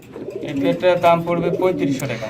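Pigeons coo at a pigeon sale: a pair of birds gives repeated soft, throaty cooing calls close by, overlapping in a continuous rolling rhythm.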